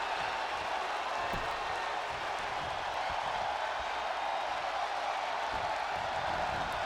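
A crowd in the WWE 2K wrestling video game cheers during a championship match, making a continuous, even roar of massed voices and applause at moderate loudness.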